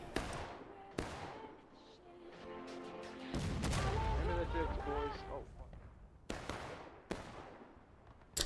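Confederate artillery in a Civil War battle game fires as several sharp, booming reports at irregular intervals, one followed by a longer rumble, mixed with other game sounds.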